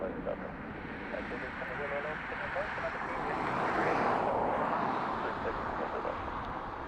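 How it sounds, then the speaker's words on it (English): A distant ATR turboprop airliner arriving from Birmingham and coming in to land, a steady broadband engine roar that swells toward the middle and then eases, with voices talking over it throughout. "ATR from Birmingham about to land"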